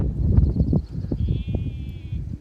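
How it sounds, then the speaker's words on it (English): Lambs and sheep bleat in a field near Labrador Bay, Torquay, giving a few short, close calls over low rumbling background noise. "Lovely to see the lambs, quite unexpected."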